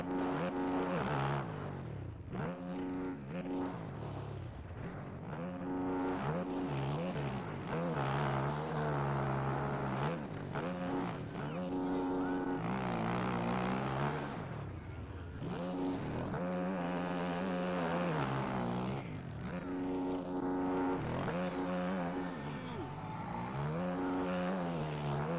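Engine of an old KTM motocross bike in the MX Bikes video game, a continuous loud revving drone with rising and falling pitch sweeps as the throttle and gears change throughout.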